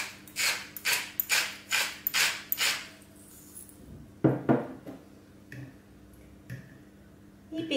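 Fork or whisk beating cream and two eggs in a bowl for a chicken and cheese pie: a steady run of rhythmic clinking strokes, then a pause and a few scattered taps against the bowl.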